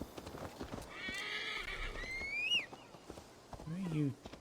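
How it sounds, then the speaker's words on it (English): A horse in the Assassin's Creed Valhalla video game whinnies twice, a long shrill neigh and a shorter one near the end, over light clip-clopping hooves, with quiet game ambience beneath. "Definitely gonna want to call our horse for this."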